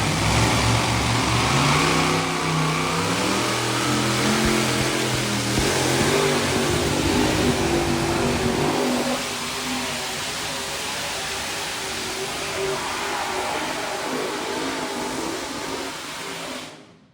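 Pulling tractor engine at a New York State tractor pull event, a loud roaring drone whose pitch climbs over the first half and then settles into a steady rumble as it passes, fading out at the end.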